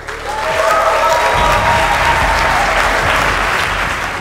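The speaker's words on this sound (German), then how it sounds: "ich bitte um einen herzlichen und stolzen Applaus an den BAFTA- und Oscar-Gewinner des Jahres" Awards ceremony audience applauding a BAFTA- and Oscar-winning composer, loud dense clapping that builds quickly and holds full, with low thumps and a faint tone beneath.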